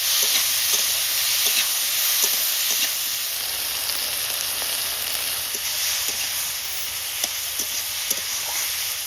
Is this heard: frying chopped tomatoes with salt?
yes